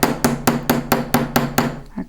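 Eight crisp, evenly paced strikes of a riveting hammer texture folded sheet metal, each a bright metallic tap with a short ring, close and loud, followed by a softer final knock.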